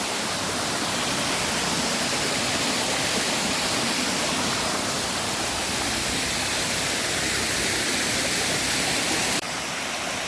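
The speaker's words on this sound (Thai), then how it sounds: "น้ำตกเจอแล้ว แต่ไม่กล้าไปตรงนู้นเดี๋ยวมันลื่น" Khun Huai Thoen, a small forest waterfall, pours with a steady broadband rush of falling water, close and loud throughout with no voices.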